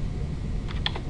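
A computer keyboard being typed on to enter a website address, with a short cluster of a few quick keystrokes near the end over a low steady room hum.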